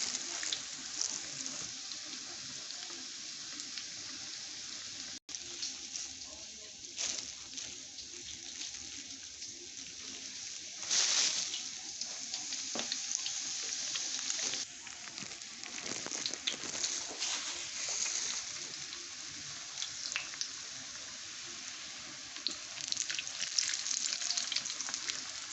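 Bean cakes fry in hot cooking oil with a steady, close hiss and crackle that persists throughout, occasional louder spits and bubbling swells rising over the constant sizzle, no talking.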